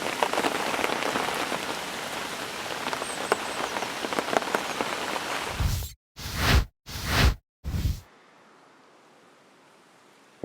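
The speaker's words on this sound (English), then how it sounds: "it's drizzle" Light drizzle falling steadily outdoors beside a carp fishing lake, a soft continuous patter that breaks into three brief bursts before fading to a faint hiss.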